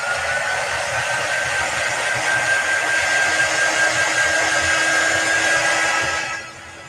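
A hair dryer blowing on chalk paste on a 14-inch round wooden door hanger, giving a loud, steady close-up whoosh with a faint whine that runs for several seconds before cutting off near the end.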